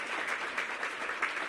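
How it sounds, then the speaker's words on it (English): Audience applause at a public event for a housing authority board chair, steady dense clapping filling the short moment without voices. "Give Neil a big round of applause."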